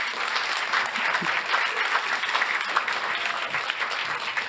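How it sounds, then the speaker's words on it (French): Audience applauding at an insurance talent awards event, a dense, continuous wash of many hands clapping at steady loudness throughout, with no talk over it. "on peut vous applaudir"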